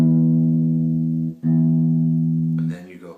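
A single guitar note is fretted and struck and rings steadily and clearly. It is briefly interrupted, then sustains again before fading into muffled handling noise.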